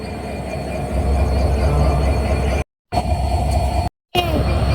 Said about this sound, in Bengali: এই তো বেনাপোল ট্রেন ছেড়ে চলে যাচ্ছে একটু পরেই মধ্যে ট্রেন চলে যাবে